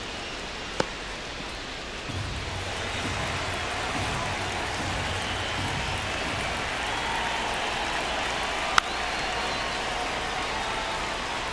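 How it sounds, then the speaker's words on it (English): Steady rain falling over a ballpark in MLB The Show 26, a soft, even hiss of drops that continues throughout, with a low crowd rumble underneath and a couple of sharp ticks. "This rain is not letting up."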